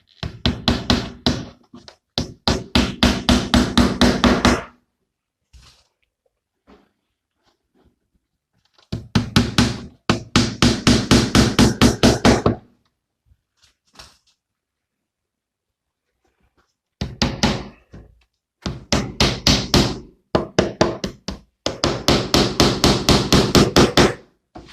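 Light nails are hammered to tack wooden boxes together, in bursts of rapid, loud, close hammer blows separated by pauses of near silence, several rounds in a row.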